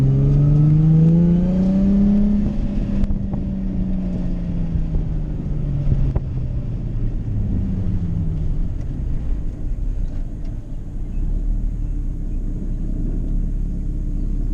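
A car driven on a track roars loudly and continuously, its engine note rising and falling through shifts as it accelerates, with steady rumble and wind noise up close.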